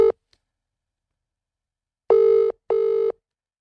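Telephone call tones ring out while calling someone back: a short beep at the start, then after a long silence two evenly spaced, loud, busy-signal-like tones, clear and alone.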